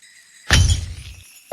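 A sudden glassy shatter bursts out in Roblox Brookhaven during a bank robbery, loud and close, with crackling fragments tumbling for under a second before a sharp click at the end.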